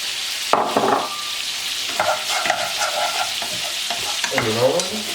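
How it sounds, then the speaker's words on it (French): Meat frying in hot oil and butter, stirred with a utensil: steady bright sizzle throughout with scraping stirring strokes rising above it, close and fairly loud, no talking. "Parce qu'en fait l'huile va cuire et le beurre va dorer la viande"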